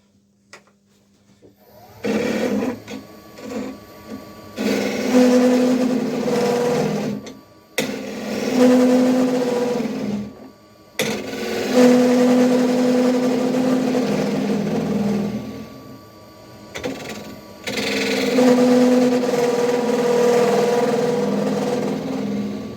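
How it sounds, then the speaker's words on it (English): A wood lathe spins a fence post being turned into a mushroom shape while a small, thin gouge cuts the end. The loud, close motor hum comes in several sustained spells, with rough cutting noise rising and dropping between brief pauses. "now I'm going to use a much smaller, thinner gouge to take the end off"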